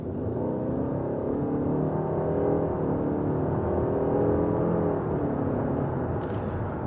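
A 2022 Ford S-MAX Hybrid accelerating, heard from inside as a steady, rising engine whir with road noise, continuous and fairly loud throughout.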